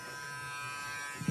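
An electric toothbrush buzzes steadily and closely at an even pitch throughout, with a brief low bump of sound near the end.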